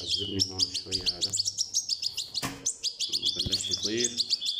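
Rapid, high-pitched chirping from several 16-day-old goldfinch chicks begging for food, repeated in quick insistent bursts, close by, with a soft voice and a brief thump in the background.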